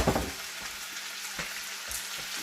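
Beef and broccoli with noodles frying in a hot pan while being stirred with a spoon, a steady close sizzle with faint scraping strokes throughout.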